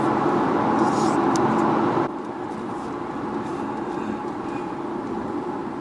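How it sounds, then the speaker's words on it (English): An Aston Martin engine, fitted with an exhaust fix for catalytic converter ceramic ingestion, runs with a steady broadband roar that drops to a quieter, even idle partway through, heard alone without voices. "Just want to listen to the car one more time"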